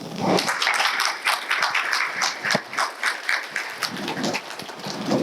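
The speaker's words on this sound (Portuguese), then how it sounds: "Para vocês essas palmas, vocês mulheres." Applause from an audience at a women's parliamentary forum lecture, a dense, lively burst of many hands clapping that continues throughout, fairly loud and close with a few brighter individual claps standing out.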